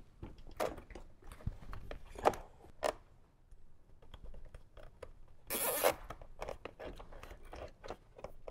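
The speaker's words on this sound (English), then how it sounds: "I'm going to go ahead and zip tie this along the way." A plastic zip tie being cinched around wiring during a subwoofer and amplifier install in a 2018-2023 Jeep Wrangler JL, with short ratcheting zips and scattered clicks and handling noises, close and fairly quiet.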